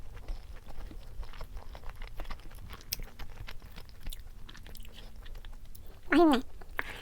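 Food made of chicken, egg and mayonnaise is chewed up close in soft, steady, moist crunching, faint but continuous, with a brief voice near the end.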